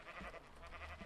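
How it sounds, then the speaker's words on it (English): Sheep bleating in the video game Minecraft, two short bleats close by, one early and one near the end, over a faint steady game background. "Sheep."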